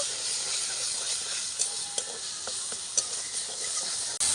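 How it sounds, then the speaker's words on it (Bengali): Mashed banana flower sautéing in a pan with salt and turmeric, a steady close hiss and sizzle with occasional stirring clicks, no voices. "দশ মিনিট হালকা আজে কষিয়ে ভর্তাটা আমি তৈরি করে নেব"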